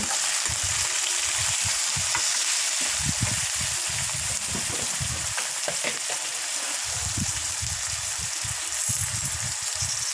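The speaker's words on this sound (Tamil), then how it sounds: "கொத்தமல்லியும் ஆட் பண்ணி நல்லா வதக்குங்க" Onion, tomato and coriander being sautéed for chicken gravy, a constant hiss of frying with repeated low scraping and stirring strokes in clusters, near and loud with no speech.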